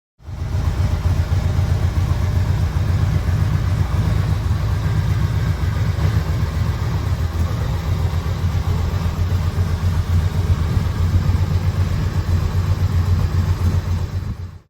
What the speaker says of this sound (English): I'll let you listen to the bike